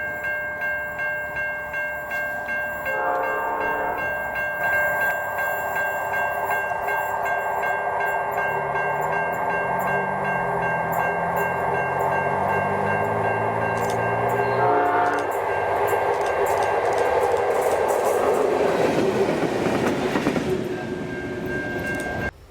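A former New South Wales Government Railways 45 class diesel locomotive, rebuilt with a lower front nose, rumbles steadily past with a continuous engine drone, a bright sustained tone and a rising surge of wheel and rail noise near the end.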